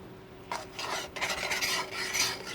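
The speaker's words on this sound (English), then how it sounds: "You scrape the bottom of the pan." A utensil scraping the bottom of a pan of sauce while cooking, a close, loud rasping rub in repeated strokes over a low background hum.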